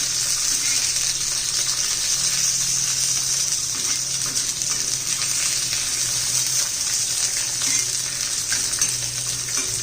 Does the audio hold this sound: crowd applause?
no